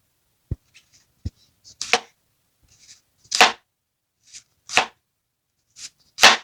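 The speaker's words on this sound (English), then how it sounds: "make it sure that your knife is quite sharp because we have to slice this in a round or just like a onion ring" Sharp knife slicing a pork chop sandwich ingredient into rounds like onion rings on a board, a few crisp cuts with two sharp taps at first, then several separate swishing slices at steady intervals, close and clear.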